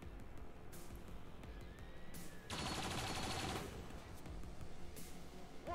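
Gunfire in XCOM 2: Long War of the Chosen during a battle with a turret: bursts of rapid shots, one sustained volley in the middle, fairly faint against a constant background of combat noise, no voices.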